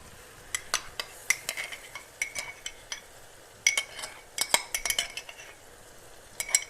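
Yogurt is mixed into softened tomato masala for langar-style dal, with a spoon scraping and clinking against the pot in irregular bursts of short taps over a quiet background.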